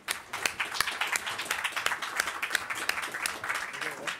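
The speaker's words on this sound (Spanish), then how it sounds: "Pachi, un aplauso para Pachi," Audience applause for a person called up on stage at a Campus Party event presentation, a dense steady patter of many hands clapping that fills the whole stretch at moderate loudness.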